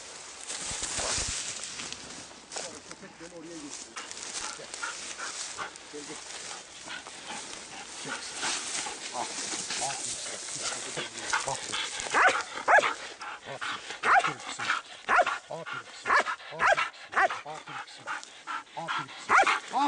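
A dog being trained for search and rescue barks and yips in short bursts, growing more frequent toward the end, while people talk nearby.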